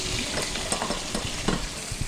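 About thirty chopped small shallots are frying in hot oil with curry leaves for Malabar-style chicken kondattam, giving a steady close sizzle with stirring scrapes throughout and no talking.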